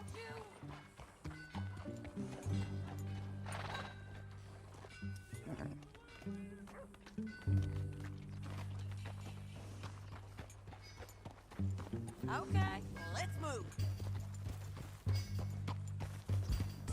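Horses ridden at a steady pace in Red Dead Redemption 2, with rhythmic clip-clop hoofbeats running under game music and brief spoken lines.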